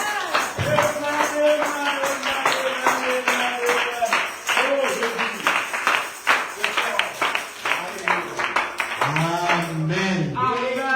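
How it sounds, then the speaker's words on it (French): A church congregation claps in a dense, steady burst of applause with cheering voices, loud and close, while a preacher's voice rises over it and continues speaking throughout. "Apportons-lui encore des acclamations."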